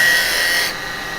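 A turning tool takes a controlled cut on wood spinning on a lathe, giving a loud, steady rasping hiss that drops off in level partway through the short burst.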